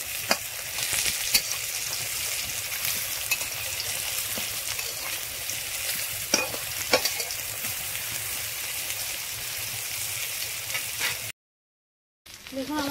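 Brinjal slices coated in semolina and egg fry in a pan, giving a dense, continuous crackling sizzle with occasional sharper pops, heard close and alone before a brief cutout near the end.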